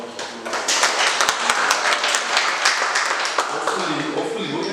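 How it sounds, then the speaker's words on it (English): A room of attendees at an association's communications annual general meeting applauds the media team, a dense wash of clapping held for several seconds, fairly close and steady, with a few voices mixed in. "Maybe we can give them a round of applause."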